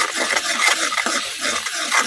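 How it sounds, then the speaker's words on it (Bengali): Spice paste of chili, coriander and salt is fried and stirred in a pan in a village kitchen, a steady scraping sizzle with repeated spatula strokes and no voices. "এখন মশলাটা কিছুক্ষণ কষাই নেন।"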